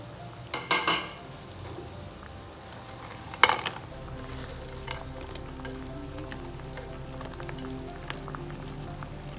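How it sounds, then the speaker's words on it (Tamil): Bread slices dropped into boiling sugar syrup for double ka meetha, giving a steady bubbling sizzle with two brief louder splashes and stirring clatters early on, alone with no talk. "இப்போ சுகர் பாகு கொதிச்சு வந்ததுக்கப்புறம் நம்ம வச்சுருக்க ப்ரெட்டை இதோட சேர்த்து விட்டுருலாம்."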